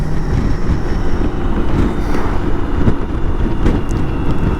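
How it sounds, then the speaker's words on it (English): A constant loud roar of wind buffets a rider on a BMW K1600 GTL motorcycle in a gusty crosswind. The broadband rushing stays dense and steady with no voices. "the wind's blowing quite well"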